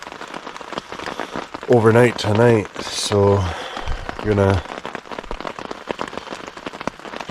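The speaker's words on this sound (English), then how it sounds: "Rained steady all night. It's not raining hard." Steady, gentle rain falling on a campsite in Algonquin Park, a continuous close patter of drops on surfaces, with someone talking briefly over it partway through.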